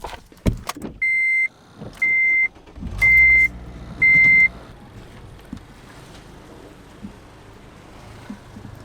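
Honda Civic pulling away: four evenly spaced beeps sound first, then the engine and tire noise swell as the car moves off, steady and fairly close.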